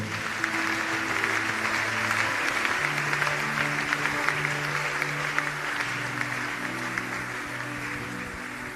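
A church congregation applauds in a steady, dense wash of clapping that runs throughout, while a low sustained music tone plays underneath.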